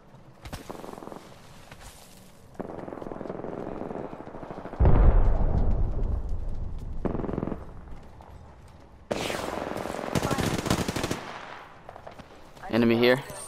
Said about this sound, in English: Yeah, that's where the gunfire is.